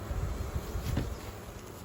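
Honeybees buzz around a nuc hive outdoors, a soft, steady drone with a faint, close hum that swells slightly near the middle before settling, with no voices.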